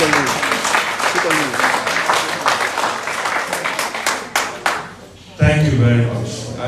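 Scattered applause at a journalists' union media retreat and awards evening, a thin spread of claps under an amplified voice, fading to a brief hush before talking resumes.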